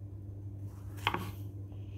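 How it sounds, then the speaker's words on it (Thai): A knife cuts through strawberries on a board in a home kitchen with one quick, distinct chop and a softer follow-up tap, faint against a steady low background hum. "อันนี้เฮาสิมาหั่น สตรอเบอรี่เนาะ"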